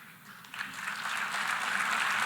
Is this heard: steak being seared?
no